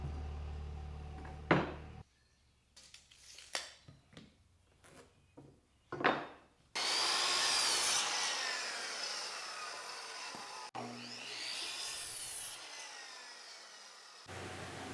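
Several sharp knocks of wood scraps being handled, then a loud power saw cuts them shorter in two long bursts, close and harsh.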